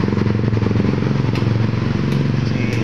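A motorcycle engine idles close by with a rapid, even putter and some mechanical clatter, holding steady and loud throughout.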